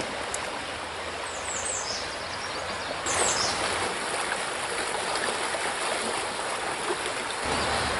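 A Minnesota river flows and rushes around a tree sticking down into the water, making a steady, close, full-bodied wash of moving water with no talking.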